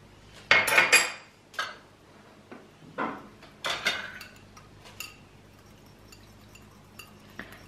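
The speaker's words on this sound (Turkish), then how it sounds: "Şöyle güzelce bir karıştırıyorum." Spoon stirring milk and yogurt culture in a bowl, a series of close, bright metallic clinks and scrapes in uneven bursts with quiet gaps between them, no voices.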